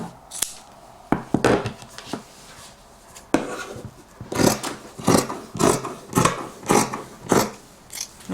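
Fabric being cut with scissors for a ruffle skirt: a run of crisp, snipping cuts close by, irregular at first and then settling into a steady rhythm of repeated strokes, with no talking.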